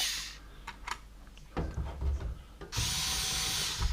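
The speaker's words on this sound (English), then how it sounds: "I'm going to screw that straight into place with the 2 screws" A power screwdriver drives two screws to fix a replacement heater element into a tumble dryer, with short bursts of whirring motor and handling clatter close by, the final run loud and sustained.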